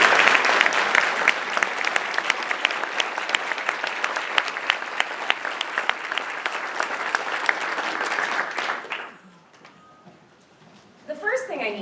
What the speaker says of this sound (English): So please give all of our graduates and everyone in this community a round of applause.